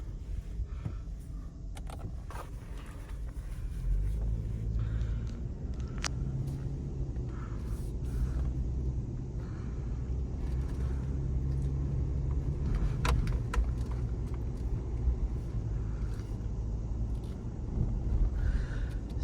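Cabin sound of a 2006 Toyota 4Runner SR5 4x4 on the road: a steady low engine and road rumble with faint rattles and small clicks throughout.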